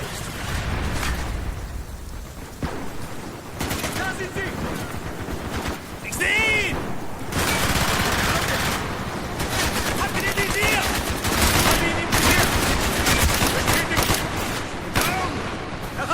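Automatic gunfire and bursts from the Call of Duty Black Ops Project Nova map on Xbox 360, rapid rattling volleys and scattered shots that fill the whole stretch, mixed with game sounds and shouted voices.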